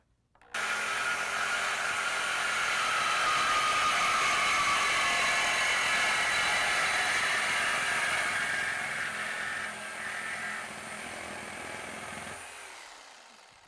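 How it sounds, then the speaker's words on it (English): A power saw cuts through the factory exhaust pipe just ahead of the muffler on a 2019 Chevy/GMC pickup, a loud, steady, grinding whine lasting about thirteen seconds, easing slightly near the end before stopping, with no talking. "We're going to cut this right in front of the muffler in order to remove it."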